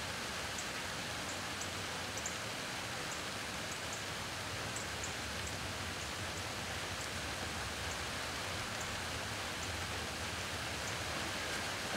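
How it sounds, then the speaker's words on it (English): Rain starting to fall in woods during a deer hunt, a steady, even hiss of drops on foliage throughout, faint and continuous with no talking. "It's starting to rain."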